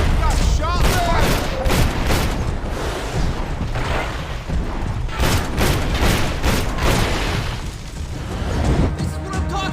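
Loud, dense gunfire from the video game Max Payne 3, with rapid overlapping shots and booming bursts running throughout, forming a continuous chaotic firefight.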